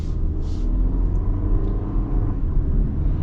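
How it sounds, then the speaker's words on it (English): A 2023 Toyota Highlander Limited pulls away from a stop, its engine and road rumble forming a steady, low, continuous drone from inside the cabin, with no talking over it. "we can actually get up and move here. So initial torque, pretty good."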